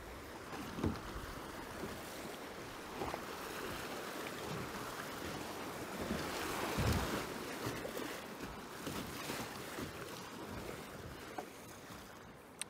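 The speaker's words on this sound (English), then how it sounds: "we got some nice standing waves here" Water rushes and splashes against a Crescent K-Craft kayak paddling through standing waves, with paddle strokes and occasional sharper slaps over a constant churning flow.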